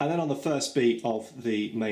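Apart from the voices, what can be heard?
No distinct noise like a dog, phone or traffic.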